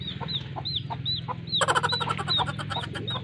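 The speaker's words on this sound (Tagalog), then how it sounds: "Dami namin dito manok." Chickens cluck nearby in repeated short calls, joined halfway by a louder burst of rapid, harsh clucking from another bird, over a low background hum.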